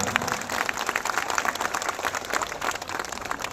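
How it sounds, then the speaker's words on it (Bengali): An audience applauds a guest at a stage event, with steady, dense clapping that fills the whole stretch at an even level, no voices over it. "তার জন্য একটি জোরে হাততালি হোক"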